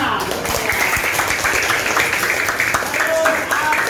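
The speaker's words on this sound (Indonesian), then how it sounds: "Kita kasih tepuk tangan." A group of children and adults clapping for children's Asmaul Husna calligraphy work, a steady wash of applause running throughout, mixed with voices talking over it.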